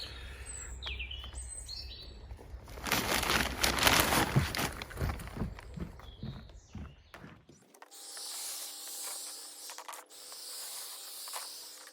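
A Wagner spray gun applying protection oil to OSB flooring in a workshop gives a loud, rough hiss lasting a few seconds in the middle. Quieter chirpy and mechanical sounds come before it, and a thin electronic hum follows.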